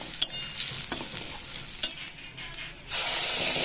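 Ginger and green chili paste frying in a pan for a moong dal and soybean dish, a steady close sizzle with a few stirring scrapes, rising to a louder, brighter hiss near the end.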